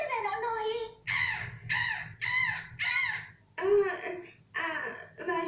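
A voice imitates the call of a red-footed booby seabird with a series of harsh, nasal, crow-like squawks, about seven bursts in a loud, uneven rhythm close to the mic.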